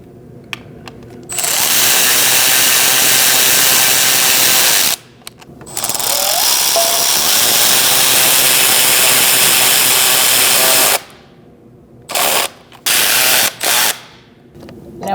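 A tool tightens bolts on a 3.0L V6 engine of a 2008-2014 Mercedes-Benz C300 during knock sensor replacement, giving long, loud, continuous whirring runs broken by pauses and a few short bursts near the end.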